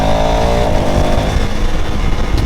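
A KTM Duke motorcycle ridden on Chennai roads, its engine droning loud and close with a steady rumbling tone and a slight shift in pitch, plus strong wind noise.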